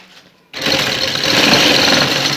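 After a brief quiet start, a sewing machine starts up and runs steadily, stitching a design onto a garment sleeve. Its fast whirring hum is close and loud and continues unbroken to the end.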